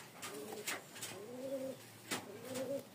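Domestic pigeons of the Rajshahi Giribaz breed coo at close range in soft, rising-and-falling phrases, with about three distinct coos against a quiet background and faint rustles.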